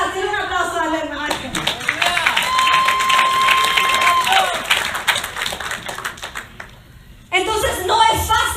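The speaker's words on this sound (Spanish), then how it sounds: "Den un aplauso a la hermana." A church congregation applauds, dense clapping that rises and carries on for several seconds while a sustained musical tone sounds, then briefly dips before another burst of clapping; a preacher talks before it.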